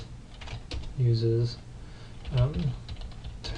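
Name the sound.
typing on a computer keyboard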